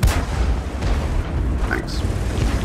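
A tank gun in a tank video game (Cromwell) fires with a loud, heavy boom right at the start, followed by rumbling battle noise that fills the rest of the moment.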